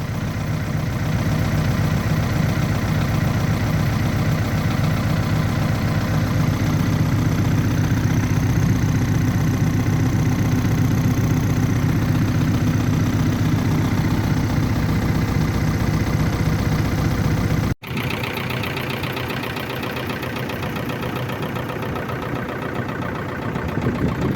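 A YuMZ-8280 tractor engine runs steadily while hauling hay, a loud, continuous low rumble close by that cuts out abruptly near the end and resumes at a slightly lower level.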